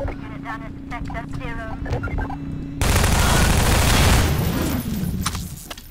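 Gunfire in DayHard, a Half-Life 2 mod, breaks out as a dense, loud rattle of rapid shots after a stretch of voices over a steady hum, then fades somewhat toward the end.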